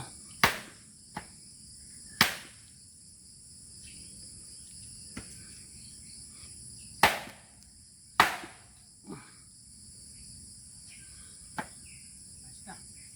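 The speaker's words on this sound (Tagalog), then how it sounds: "Yan po si Dudong naggagawa ng upuan ng table." Sharp wooden knocks from hammering wood to build a chair strike at irregular intervals on a farm, some loud and some faint, over a steady background of chirping insects.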